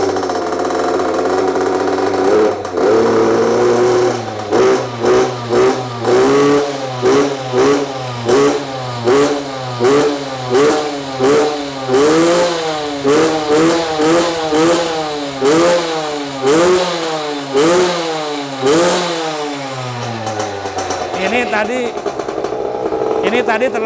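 A Mini Trail MX 50 two-stroke motorcycle engine, kick-started and running rich on too much two-stroke oil, blips repeatedly in a steady rhythm of rising and falling revs, loud and close, with someone talking over it.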